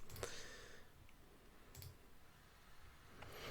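Keyboard typing on a computer, a few soft sparse clicks in short bursts against faint background hiss, with no talking.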